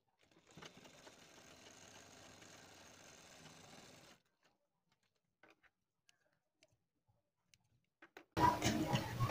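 A sewing machine stitches piping onto a kurti neck, whirring steadily for about four seconds before stopping, followed by a few faint ticks and then a sudden loud burst of noise at the end.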